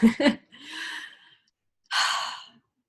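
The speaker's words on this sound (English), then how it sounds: "So I'll breathe with you." Slow, deep breathing with a quick double intake, then a long audible exhale, a pause, and a second drawn-out breath out, close and alone.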